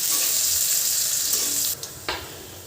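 Onions frying in oil in a pan on a stove, a steady close hiss of sizzling that holds throughout, with a brief clatter near the end.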